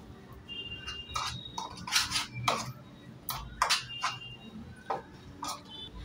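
A spoon clinking and scraping against a bowl while spice masala with hing and colour is mixed for tandoori prawns, in a series of irregular sharp taps and scrapes, close up, with no talking.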